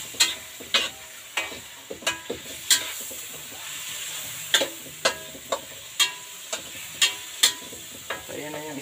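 Fish sautéed and stirred in a pan with garlic, a steady sizzle broken by about a dozen sharp utensil scrapes and taps in an irregular rhythm, close and moderately loud.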